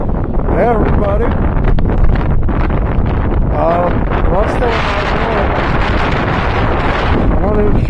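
Strong wind roars and buffets the microphone during a big snow storm in America, near a truck, continuous and loud, while a person shouts over it.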